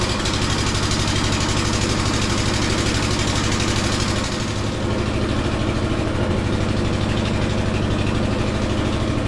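An antique Briggs and Stratton generator engine with an exhaust leak idles close by with a steady low throb and rapid rhythmic ticking pulses, loud and unbroken apart from a brief dip midway.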